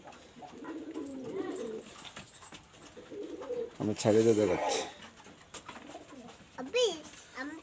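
A pair of Salara pigeons of the original Mia Saheb line, a breeding pair with the female on eggs, coo in repeated throaty bursts near at hand while someone talks over them.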